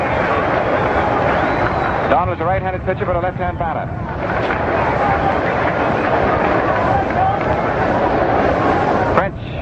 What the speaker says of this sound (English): there's the applause growing as the fans out here see it